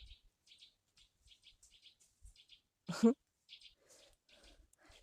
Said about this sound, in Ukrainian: як якась співає пташечка